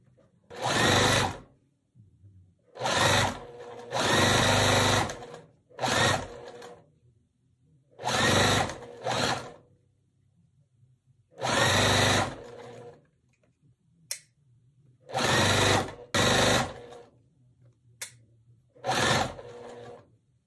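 Sewing machine stitching a barn star sampler quilt block in short bursts of rapid, close whirring, separated by quiet pauses of a second or two.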